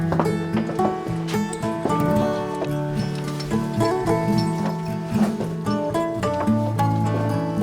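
Draft horse hooves clip-clop in a steady rhythm, close by and mixed with a tonal, music-like backdrop.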